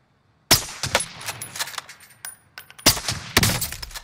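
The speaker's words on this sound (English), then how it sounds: "I put two shots into him." Gunfire from Call of Duty Warzone on the Verdansk map comes as sharp, loud bursts: a sudden volley, scattered follow-up shots, then a second cluster of cracks.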